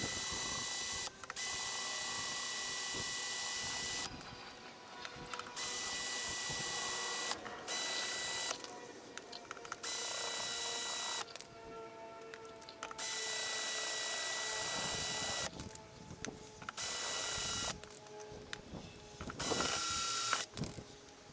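A drill running a step bit through metal, cutting in several long, loud whining bursts separated by short pauses, with grinding and rattling as the bit bites.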